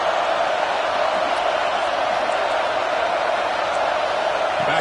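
Stadium crowd roar in the College Football 26 video game, a Georgia versus Oklahoma matchup, a steady dense wash of cheering that holds at an even level throughout, with no distinct peaks.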